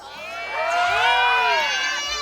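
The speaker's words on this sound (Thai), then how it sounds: "เป็นยังไงแฟนบอลพร้อมเชียร์ไหมคะขอเสียงหน่อยเร็ว" Football fans at a stadium roar and shout together in a sustained, swelling cheer, with high voices and whoops blending into one loud crowd noise.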